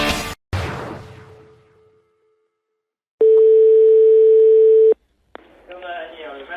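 A telephone line goes dead after the caller hangs up: a click, a brief quiet, then a loud, steady tone of about two seconds that cuts off abruptly, followed by another click and a voice starting to speak.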